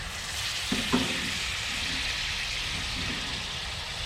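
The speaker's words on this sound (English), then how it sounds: "Got a nice sizzle going in there." Steady, close sizzling of flank steak on a hot wood-fired grill fills the clip, with a couple of brief clacks near the start.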